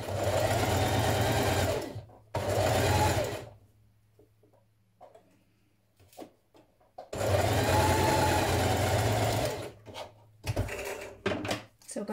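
Sewing machine stitching a seam on a 1960s vintage dress (Simplicity 9447 pattern), running in two loud bursts of steady whirring separated by quiet handling clicks, then a few shorter runs; no talk over the machine.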